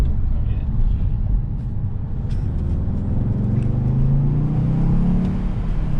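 A VW MK6 fitted with a CTS downpipe revs with a loud, steady engine drone, and the pitch rises as the turbo spools. People talk over the engine throughout.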